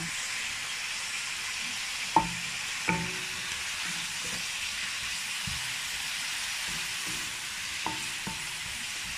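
Pork and cucumber stir-frying in a pan give a faint steady sizzle, broken by a few sharp clacks of the utensil against the pan as the food is tossed.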